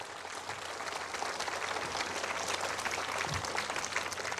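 A crowd at a concert in an old traditional house gives sustained, dense applause, loud and even from start to finish, with a faint voice underneath.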